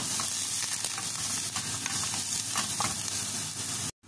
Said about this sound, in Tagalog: Ilagay na natin yung ating sibuyas, ang ating bawang. Isoti lang natin.